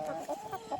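Chickens on a farm, eight birds in the flock, give soft, low clucks in a short, uneven burst, close but fairly quiet with no talk over them.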